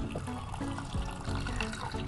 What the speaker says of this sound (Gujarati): એની અંદર પાણી ઉમેરી લઈશું.